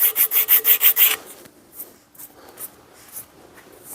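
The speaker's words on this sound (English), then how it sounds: "That's the only reason I'm hitting it with sandpaper now, is to scuff it back up" Sandpaper scuffs a freshly shaped wooden axe handle in a quick series of about seven even, loud back-and-forth rubs, then trails off into softer, scattered scratches.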